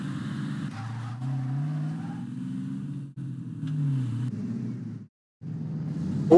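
A car drives in the video game Total Overdose, its engine holding a steady drone with rising and falling revs. A brief dropout near the end is followed by a sharp burst. No voices.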